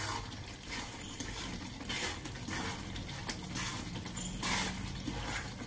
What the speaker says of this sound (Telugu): ఇది వేసేసినాకండి ఒక 2 నిమిషాలు వేయించుతున్నానండి